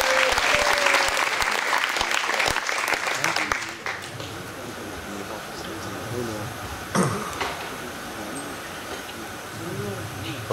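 A round of audience applause for a guru at a Mayapur book-distribution awarding, loud clapping for a few seconds that cuts off sharply, followed by quieter room noise and a voice beginning to chant.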